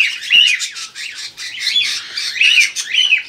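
White-faced and albino cockatiels in a colony aviary squawk and chirp in loud, close, overlapping harsh calls that rise and fall continuously.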